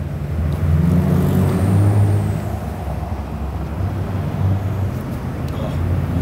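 An International truck engine spools up, a loud low drone with a rising turbo whine, heard from inside the cab while a voice talks over it.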